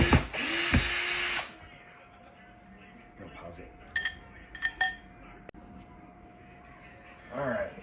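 A cordless drill spins out screws while a Monport GI30 fiber laser is unboxed. A loud whir comes at the start, then small metallic clinks and taps follow with a faint background hum.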